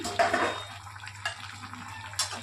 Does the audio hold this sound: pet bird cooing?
no